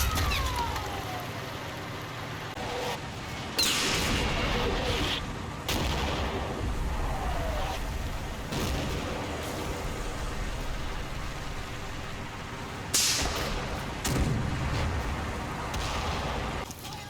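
Battle sounds from a Combat Mission WWII wargame set at Stoumont: repeated heavy gunfire and booming artillery blasts, several sharp loud bursts spread over a constant rumbling din, some near and some distant, no voices.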